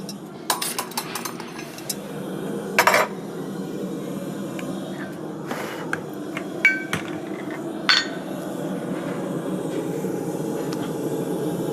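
A farrier strikes a heated horseshoe with a hammer at a farriery event, sharp metallic clangs landing irregularly over a low background rumble, moderately close.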